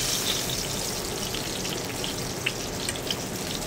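Eggplant frying in a pan of hot oil gives a steady, close sizzle and crackle with scattered sharp pops, heard alone without talk.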